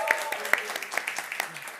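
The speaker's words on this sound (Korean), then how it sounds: "박수 한번 쳐주세요" A church congregation at a Sunday service claps briefly and unevenly, with a handful of sharp distinct claps, while voices talk over them.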